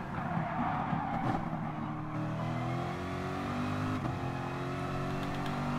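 A car engine revving, a strong throaty drone that climbs and falls in pitch with layered harmonics and a brief tire squeal, steady and close with no talking.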